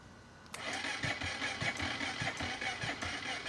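A Honda Grom motorcycle engine cranks with a rapid, steady rhythm for about three seconds after a sudden start, loud and close, and never fires up.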